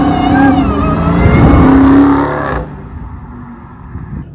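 Supercharged engine of a 2023 Dodge Charger Hellcat Redeye roars loudly as the revs build, then cuts off abruptly, leaving a faint low rumble.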